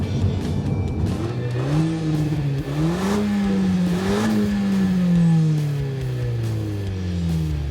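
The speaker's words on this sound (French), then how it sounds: "la voiture rétrograde aussitôt qu'elle le peut plusieurs rapports" Renault Mégane GT engine revving up and dropping through several gears in quick succession as it downshifts, pitch climbing then falling repeatedly, loud and close.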